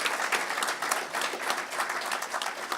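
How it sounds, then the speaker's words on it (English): A conference audience applauds Robin at a closing ceremony, a steady, dense wash of many hands clapping throughout without a break. "we give Robin a round of applause"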